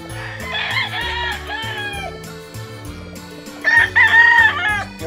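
An old Stewart game rooster crows loudly and close at hand, with a long drawn-out call near the end, while hens cluck and chatter around it in a farmyard brood pen.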